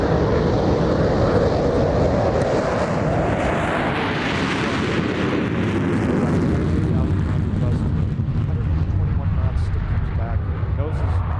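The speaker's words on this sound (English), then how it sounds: "pulling up into the vertical for the half Cuban 8, so it shows you how agile the aircraft is in the landing configuration" Fixed-wing aircraft performing aerobatics at an airshow in landing configuration with flaps down, pulling up into a half Cuban eight; a loud, sustained engine roar rising and sweeping through the middle, with a commentator talking over it.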